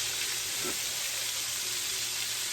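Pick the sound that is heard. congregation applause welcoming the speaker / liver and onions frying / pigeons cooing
liver and onions frying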